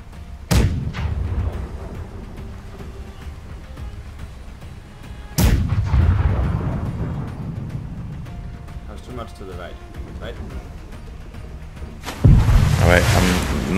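Ship cannons in the video game Blackwake fire in three separate loud, booming blasts, each trailing off in a rumble, while players talk over them between the shots.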